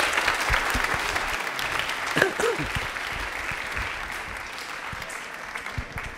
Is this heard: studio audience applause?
yes